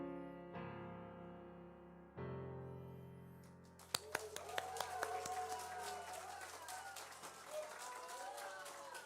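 A church congregation at a Sunday worship service breaks into applause partway through, the clapping building over sustained keyboard chords after a few seconds of held music, with a voice speaking.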